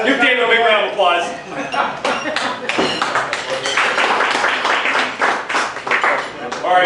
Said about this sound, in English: Give Dave a big round of applause.